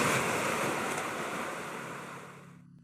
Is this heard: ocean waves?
yes